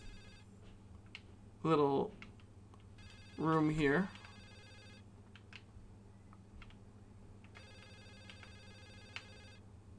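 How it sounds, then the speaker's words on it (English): A telephone rings in a hotel room in the video game The Suicide of Rachel Foster, sounding in two short bursts over a low hum while a person talks. "Phone's ringing in this room."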